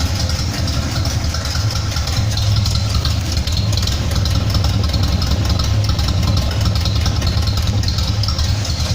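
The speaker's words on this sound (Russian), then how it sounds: "Ну и вот, как слышите выхлоп." Car engine idling in a garage through a homemade dual-sided exhaust system, a steady low rumble with an even pulsing throb that holds constant throughout, close and alone.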